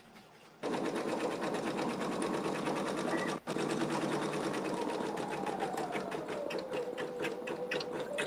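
An embroidery sewing machine stitches a zigzag with a rapid, steady mechanical clatter up close, starting abruptly, pausing for a split second, then carrying on with a faint shift in pitch.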